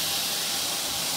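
Prawns dropped into bubbling hot oil for a prawn curry with potatoes and drumsticks make a steady, close sizzling hiss that holds at an even level for the whole brief moment, with no talking.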